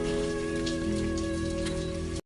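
Heavy rain pours down in a loud, unbroken roar, with a low steady hum underneath, then cuts off abruptly.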